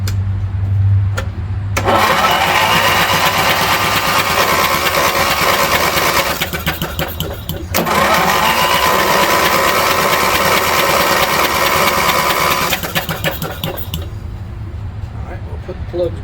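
A 20 hp Briggs engine on a ride-on mower with a bad starter cranks over in two long, loud, close bursts of rapid chugging, separated by a brief pause, with a person talking around them.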